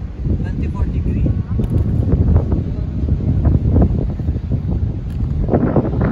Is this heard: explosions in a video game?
no